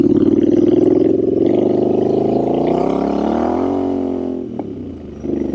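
Royal Enfield Scrambler 650 twin engine and exhaust revving up close, a loud throbbing burble that swells and falls, drops briefly, then picks back up.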